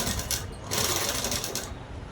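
A sewing machine stitches a dress in steady, continuous bursts, fairly close and loud, with a brief slowdown partway through and no talking over it.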